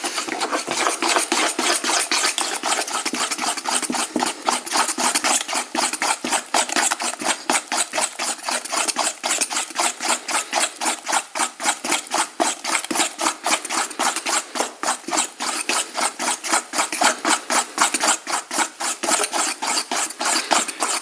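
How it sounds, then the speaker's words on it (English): Thick bread starter batter stirred in a bowl, a fast, steady rhythm of rasping scrapes repeating nonstop for about twenty seconds, close and loud with no talk. "And I stir that until it looks pretty smooth."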